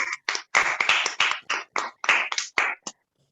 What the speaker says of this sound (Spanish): Vamos a dar otro aplauso a este estudiante ahí que compartió en un grupo familiar